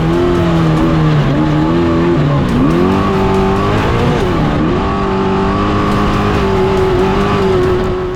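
A race truck driving steadily around a track, its engine droning loud and close with shifting pitch, a brief dip and recovery midway, continuous for the whole stretch with no talk.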